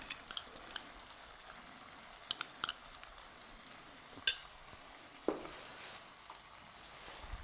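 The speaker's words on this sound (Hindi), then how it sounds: "अब इस स्टेज पे जो हमने मसाला बना के रखा था उसको हम अच्छे से फेंट लेंगे और ऐड कर देंगे सारा का सारा।" Whisked spice masala is tipped into a hot pan of cauliflower and peas sabzi and stirred, giving a soft, low sizzle with a few spoon scrapes and taps.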